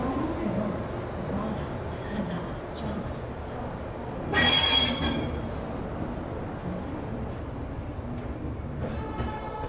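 The 12015 Delhi–Ajmer Shatabdi Express rumbles along steadily on the rails, with a sharp burst of high wheel squeal in the middle that fades back into the continuous running noise.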